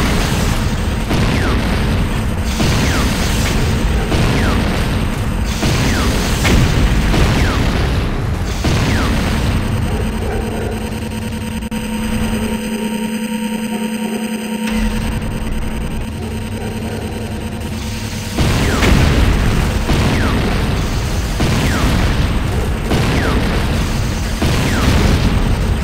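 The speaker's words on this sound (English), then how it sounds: "GDI Advanced Guard Tower under attack" Repeated booming explosions and mechanical clatter as the GDI Advanced Guard Tower comes under attack in Command & Conquer Renegade. The dense barrage is loud and continuous, eases off briefly in the middle, then surges again.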